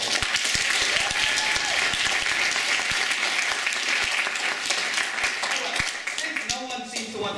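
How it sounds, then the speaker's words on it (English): Audience at a college Brazilian music spring concert breaks into loud, sustained applause with dense clapping and some cheering throughout, thinning slightly toward the end. "So one more time, round of applause for them."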